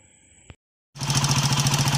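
A Hero HF Deluxe motorcycle engine with a worn timing chain starts up after a brief pause, then runs loud and close with a rapid, steady rattling knock over its idle.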